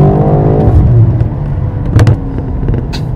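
A BMW X6M's engine and exhaust rev hard with M mode engaged and everything on sport settings, a loud, close, rising roar that drops back at about one second and then gives a second short burst around two seconds.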